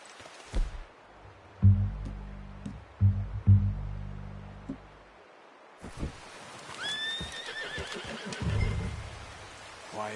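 A horse whinnies twice in a video game, a shrill neigh rising over rain and low rumbling effects, with soft footfalls and ambient game sound around it.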